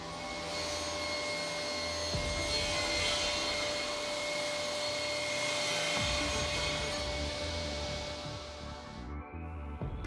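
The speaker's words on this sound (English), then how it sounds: "Now clamp the board under the edging shoe, which ensures that this cut is also performed without a hitch." A Felder C3 31 combination woodworking machine saws through a clamped board, a loud steady whine and rasp of blade on wood lasting several seconds before the machine winds down near the end.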